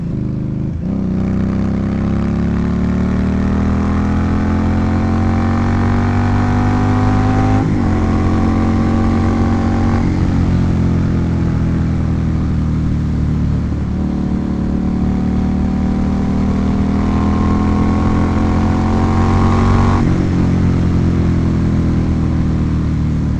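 Motorcycle engine recorded on a Tascam DR-05, loud and close, revving down and back up several times with a steady harmonic drone and sweeping pitch changes, no voices.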